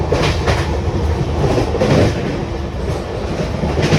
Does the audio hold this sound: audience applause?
no